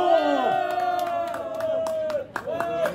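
A crowd at an outdoor political rally in Korea claps and cheers over a loud, sustained din, with a voice carrying through the noise.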